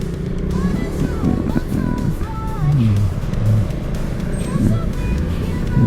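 Busy road traffic on SB Road with cars and tricycles passing: engines rumble and rev steadily close by, with a few horn-like tones rising above the drone, and a person talks over the noise throughout.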